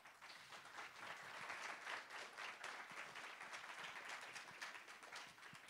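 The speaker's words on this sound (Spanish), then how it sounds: "Recibamos con un caluroso aplauso a nuestro ponente" An audience at a lecture in San Luis Potosí applauds a speaker with sustained, even clapping from many hands, filling the room for several seconds at moderate distance, with no talk over it.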